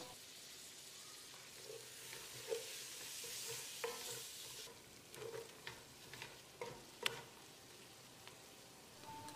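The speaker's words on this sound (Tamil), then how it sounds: "அரை கப் அளவுக்கு நறுக்கின புதினா இலை அதே அளவுக்கு மல்லி இலையை சேர்த்து ஒரு முப்பது நாற்பது செகண்ட் பரட்டி விட்டுடலாம்" Soft sizzling as chopped mint and coriander leaves are stir-fried in a pan, with intermittent scraping and stirring knocks, steady and fairly quiet.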